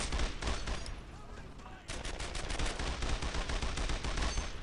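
Rapid bursts of gunfire from the World War II shooter Brothers in Arms: Earned in Blood, loud, dense and continuous, with overlapping shots under a brief pause midway.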